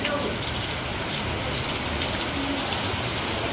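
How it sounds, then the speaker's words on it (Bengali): Heavy rain falls outside in a dense, unbroken hiss of drops striking surfaces, loud and steady throughout with no pauses. "প্রচণ্ড বৃষ্টি হচ্ছে"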